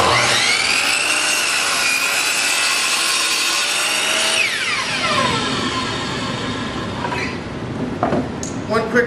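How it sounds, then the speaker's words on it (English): A sliding compound miter saw spins up and cuts through a wood board, a loud high whine that drops in pitch as the blade bites and pushes through, then winds down with a few knocks of handling afterward. "I'm going to start the saw, I'm going to plunge it down,"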